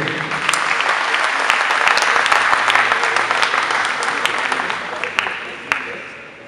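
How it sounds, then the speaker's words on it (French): An audience at the Grand Prix du Poitou billiards tournament applauds the weekend's participants: dense, steady clapping that holds evenly, then thins and fades near the end with a few louder claps standing out. "Donc j'aimerais un applaudissement pour tous ces intervenants, s'il vous plaît"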